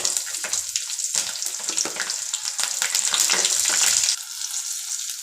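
Stuffed Kathiyawadi chillies sizzle in hot oil with popping mustard seeds and curry leaves, making a crackling, spattering fry with bursts of stirring, close and moderately loud.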